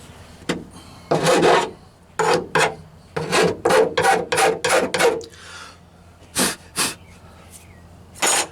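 Hand sanding on a cracked fiberglass hardtop from a Jeep Wrangler YJ gives a series of close, loud rasping strokes in quick bursts with short pauses between them, and no voices.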